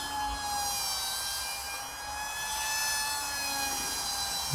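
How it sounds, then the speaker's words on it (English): An RC model plane fitted with a 3-bladed 6x3 propeller takes off, its electric motor holding a steady high whine with strong harmonics that swells gently over several seconds, loud and continuous with no talking. "Now I have mounted a 3-bladed 6x3 prop. Now I have enough power to get this plane in the air."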